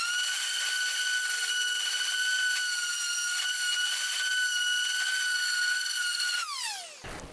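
Dual-action sander working over a car's body panel with a steady, close, high-pitched whine that holds for several seconds, then spins down as it shuts off.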